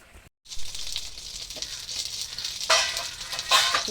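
Eggplant slices sizzle and fry steadily in a hot pan, a close, continuous crackling hiss that swells in brief louder bursts, with no voices.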